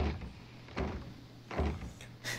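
In Resident Evil 7, a door is pushed: several dull, muffled thumps and creaky bumps in irregular succession, close but quiet, with a brighter knock at the end.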